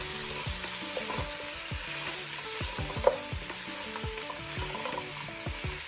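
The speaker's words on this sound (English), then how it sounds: "the oxtail been burning off for the last 5 minutes" Oxtail for a brown stew sears in a pot with a steady, close sizzle and scattered small crackles. A single clink sounds midway, and no one talks.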